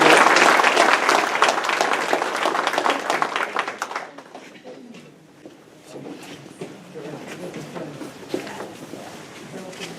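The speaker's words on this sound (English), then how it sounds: "Give them a round of applause." Loud audience applause at a sheriff's awards dinner, strong at first and then thinning into scattered claps and murmuring voices.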